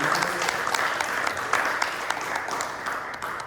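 A concert audience applauds musicians after a performance of music of the Americas, a continuous, moderately soft wash of many hands clapping throughout, with faint voices in the background.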